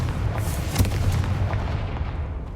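A Confringo blasting spell goes off in Hogwarts Legacy with a sharp, booming crack near the start, followed by rumbling debris and a lingering roar that slowly fades, with no voices over it.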